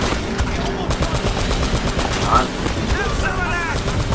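Loud, dense combat noise of rocket launcher fire in Uncharted: Drake's Fortune Remastered, with rapid gunfire and blasts running continuously through the moment.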